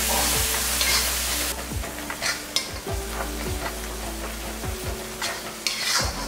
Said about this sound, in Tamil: இப்போ இந்த அளவுக்கு நல்லா வதக்கினா போதும்